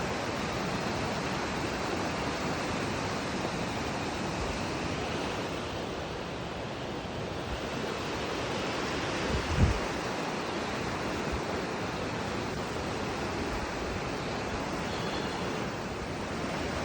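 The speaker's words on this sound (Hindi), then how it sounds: "ये नदी है।" A river in full flow after a cloudburst and landslide near Maldevta, Dehradun: a steady, loud rushing roar of water that continues unbroken throughout, with no talk.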